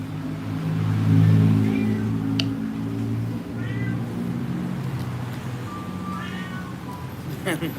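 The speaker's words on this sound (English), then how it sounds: "You hear that cat?" A cat meows several times outdoors near a park by the Chao Phraya River, short rising cries over steady engine hum and someone talking.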